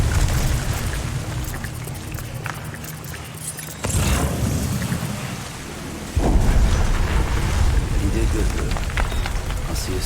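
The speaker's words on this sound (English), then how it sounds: "These explosions are real fucking loud." Explosions in the video game Death Stranding rumble loudly as deep, sustained booming roars, with the blasts swelling in waves and the loudest burst arriving near the end.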